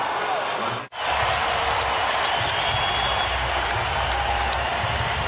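Sellout basketball arena crowd cheering and applauding at an NBA playoff game, Dallas Mavericks at Utah Jazz, a broad steady roar with a brief cut near the start, commentary voices running over it.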